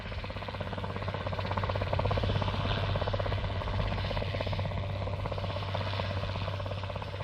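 Helicopter flying, a continuous rhythmic rotor chop over a low engine drone, steady and fairly loud throughout with no speech, from a 1969 children's animation about flying.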